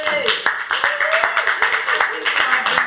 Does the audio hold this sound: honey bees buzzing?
no